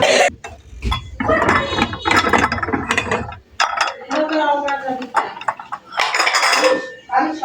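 A plate being taken and handled in a home kitchen during iftar preparation, with ratcheting clicks, clinks and scraping of dishes and utensils in close irregular bursts, mixed with a person talking.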